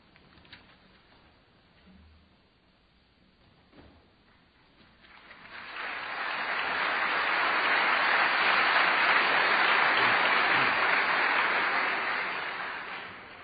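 Applause from a debate audience swells in after about five seconds of quiet room noise, building into steady, moderately loud clapping that holds, then slowly fades near the end.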